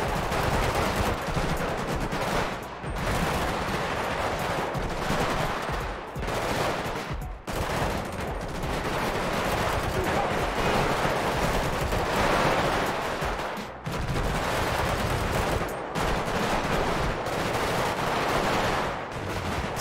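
Heavy gunfire rattles through a gang war in GTA V, dense bursts of automatic fire and shots nearly unbroken for twenty seconds, with only brief gaps between volleys.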